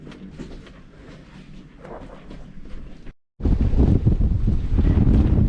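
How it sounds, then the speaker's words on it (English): Strong wind blows across the docks in Key West, roaring and buffeting the microphone in heavy gusts, with a brief drop-out before a louder, rumbling blast that carries on to the end. "Very windy here today."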